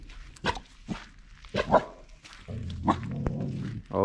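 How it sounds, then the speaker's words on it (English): Dogs on a New Year's road trip near Salinas and Big Sur let out several sharp barks and yips spaced irregularly, fairly close, with some rustling and movement in between. "What are you barking at?"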